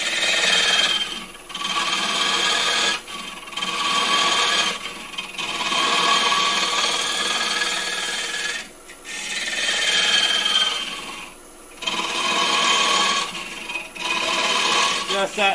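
A carbide tool shaves a thin-walled wooden piece spinning on a lathe, producing a steady hissing scrape in repeated passes separated by short pauses where the cut stops.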